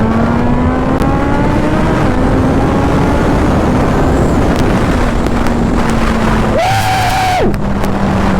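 A Suzuki Hayabusa Gen 3 motorcycle riding in strong wind, its engine droning steadily under loud buffeting wind roar, with a brief rise in engine pitch near the end.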